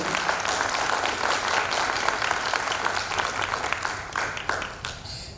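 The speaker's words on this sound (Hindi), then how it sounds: "तालियां बच्चे बजानी चाहिए।" A seated audience, children among them, claps continuously at an award ceremony in Patna honouring a guest, a loud, sustained wash of applause that tapers slightly near the end.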